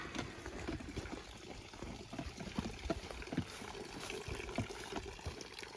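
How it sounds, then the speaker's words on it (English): Cold water pours steadily into a collapsible five-gallon water bag, a faint continuous gurgling trickle outdoors with small splashes and no talking. "So let's get the other water bottle and get it filled."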